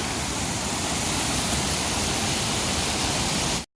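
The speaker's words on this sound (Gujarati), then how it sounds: "આપ જોઈ શકો કેવું સરસ મજાનું પાણી જાય છે." The Dhatardi river flows in Gir, a steady, full broadband rush of water that stays even and loud until it cuts off abruptly at the end.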